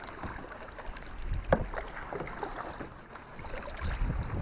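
Paddle strokes move a small boat across water while fishing, making soft splashing swishes in an uneven rhythm under light wind noise, fairly faint and without talk.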